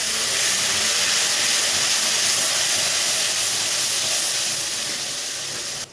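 Two spoons of vinegar hitting hot tomato sauce with garlic for koshari: a loud, steady, bright sizzling hiss that holds for several seconds, then cuts off abruptly, with no talk.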